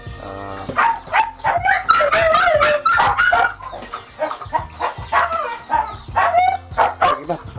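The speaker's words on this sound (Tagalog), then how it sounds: "may ingay talaga yung alaga namin aso dito" A dog barks repeatedly and whimpers in high, yelping bursts, fairly close and loud, with clucking chickens mixed in, on a pig farm.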